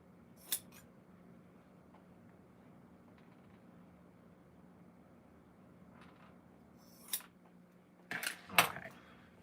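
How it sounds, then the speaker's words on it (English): Scissors snip through fabric strips in a few quick, crisp cuts, sparse and close, with quiet room tone between them. "It's just easier to use my scissors."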